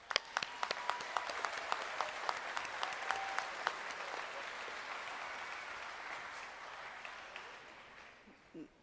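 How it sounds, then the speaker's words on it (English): An indoor crowd at the Southern Technical College 2022 graduation ceremony applauds graduates. The steady applause opens with sharp individual claps and swells into a dense wash that fades out over about nine seconds. "Let's give these graduates a round of applause."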